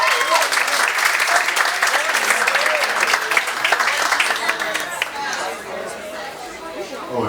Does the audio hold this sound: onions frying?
no